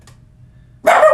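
A dog barks loudly and close by in one sudden burst that follows about a second of near silence with a low background hum.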